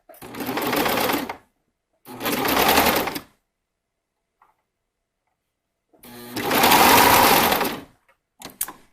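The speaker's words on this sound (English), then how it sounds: "I always find it tricky to slide everything under there in the serger" A serger overlock machine stitching fabric runs in three loud, close bursts of fast steady whirring separated by silence, followed by a brief clatter at the end.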